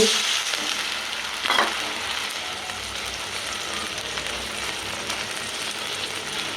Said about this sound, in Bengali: আমার পেস্ট হয়ে যে লাল লাল করে ভাজা ভাজা হয়ে গেছে